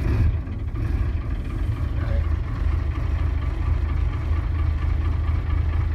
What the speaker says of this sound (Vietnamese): Thì bây giờ mình sẽ nổ máy cho các bạn xem nhé.